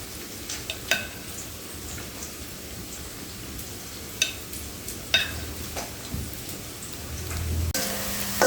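Sliced onions fry slowly in a pan, giving a steady soft sizzle with occasional sharp stirring clicks and scrapes. There is no talk, and a brief louder hiss comes at the end.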